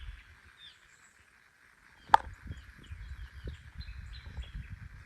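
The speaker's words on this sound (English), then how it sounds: "But do you guys hear the bird sounds?" Faint birdsong near a waterfall on a hiking trail, with soft scattered chirps and tweets over a quiet background and one sharp click partway through.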